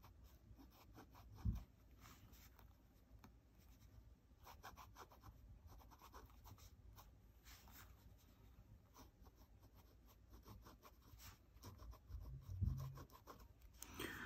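Pilot 78G fountain pen writing on paper, a faint continuous scratching of the nib with small strokes and taps, close up and quiet, with no voice.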